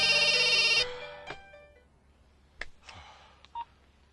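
Rapid burst of phone keypad dialing tones followed by faint ringback beeps and scattered small clicks, a call going unanswered, quiet and close.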